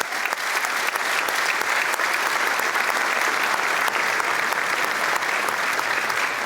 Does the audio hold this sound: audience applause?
yes